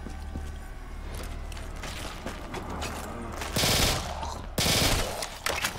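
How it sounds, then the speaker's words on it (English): M4 carbine gunfire in the shooter Black Ops 3, heard as short loud bursts of automatic fire near the end over steady game ambience, after quieter mechanical clicks and rustling. "M4 carbine. Hell yeah!"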